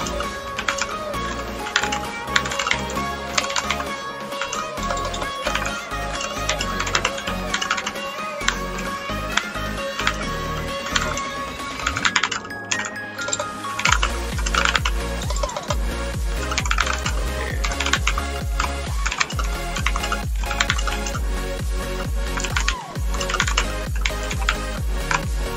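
Computer keyboard typing during a typing game, rapid clattering keystrokes running continuously and close up over a steady layer of background music, with no talking.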